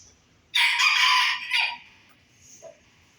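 A Thai bantam rooster with five-color Benjarong plumage lets out one loud, close crow that fades into a trailing tail, followed by a faint short cluck in an otherwise quiet setting.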